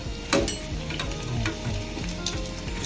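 Vada pav sizzling in a hot pan after being turned to the other side, a steady close frying crackle with a few sharper pops and light scraping, no voices.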